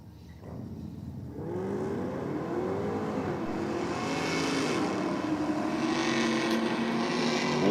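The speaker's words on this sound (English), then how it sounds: "Yeah, sounds so sweet in the burnout." A Holden Commodore race car revs hard during a burnout, its engine note loud and continuous, rising and wavering in pitch over several seconds with tyre and exhaust roar building steadily toward the end.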